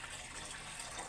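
Water gushes steadily from a tap into a container, collected for rinsing dishes during washing up at home; the pour is close, even and continuous, with no talking.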